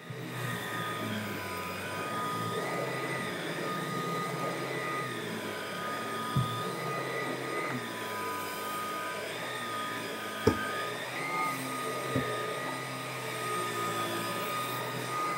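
A Milwaukee M18 Fuel 10-in-1 compact vacuum cleans dirty carpet with a steady, loud motor whine. A few brief knocks rise above it, with no talking.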